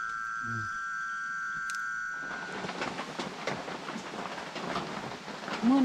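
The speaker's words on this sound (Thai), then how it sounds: "ฝนเริ่มตกแล้วเว้ยพี่น้ำใช่" Rain falls at night over a fruit orchard in the forest, a soft steady patter building up after a quieter start with a faint tone, heard from inside a small hut.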